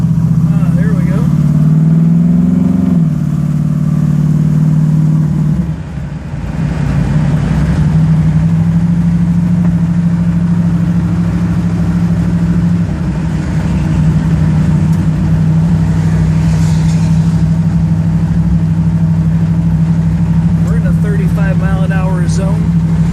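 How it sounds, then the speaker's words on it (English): Idling engine of a 1934 Ford three-window pro touring car, a steady low rumble holding close and constant throughout with a brief dip early on, under someone talking. "I'm going to guess we're idling at about 600 Rs."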